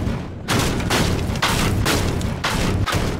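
Booming underwater explosion in Half-Life 2, a series of loud, muffled bursts that roll into one another for several seconds, heavy and close.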